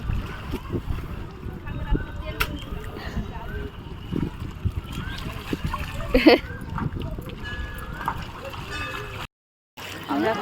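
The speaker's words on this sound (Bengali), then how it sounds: "জলে নেমে গেছি দেখো স্নান করছি" Water splashes and sloshes as people bathe in the Ganges river, with irregular near splashing running throughout under a speaking voice.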